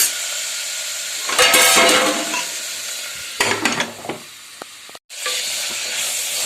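Pulao vegetables cook in a covered pan over a low flame, giving a soft steady sizzle broken by bursts of stirring and scraping and a brief clink of the lid, close by and without speech.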